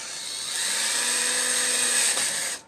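A single steady burst of a whining electric drill boring into e-bike metal, close and loud, cutting off abruptly near the end.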